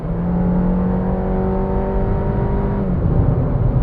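A Suzuki XL7 kicks down and accelerates on a toll road, heard from inside as a steady, loud engine drone with whining tones that rise and hold over road roar.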